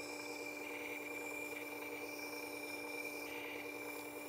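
Chisel sharpened against a grinder tool rest: a continuous close, even rasping rub over a steady motor tone with constant tonal lines, with no talking.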